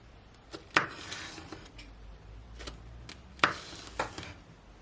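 A knife slices vegetables on a board for Jamaican stew chicken, giving a few sharp, separate chops spaced irregularly against quiet kitchen background.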